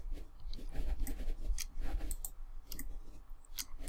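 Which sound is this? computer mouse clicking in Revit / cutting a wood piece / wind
computer mouse clicking in Revit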